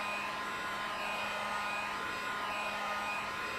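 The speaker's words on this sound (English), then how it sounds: "I'm gonna hit this with a glue gun just to see, I mean the heat gun" Steady broadband blowing of a heat gun pushing hot air over a glued paper collage, a constant close rushing hiss with a faint hum and no breaks.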